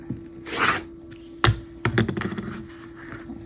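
A blade cuts through a stack of about four layers of quilting fabric along an angled ruler, giving a short scraping swish followed by a sharp tap and a series of soft rasping crunches, close and without talk.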